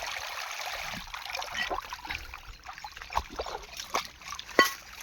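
Water running directly into a farm field with banana plants, a soft steady trickle and gurgle of flow with scattered faint splashes, low and nearby against quiet outdoor air.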